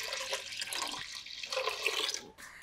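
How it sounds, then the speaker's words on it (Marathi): Water poured in a steady, splashy stream into strained wheat milk for kurdai, a continuous rushing pour that fills the whole moment at close range with no talking. "आता यामध्ये 2 तांब्या पाणी घालायचं."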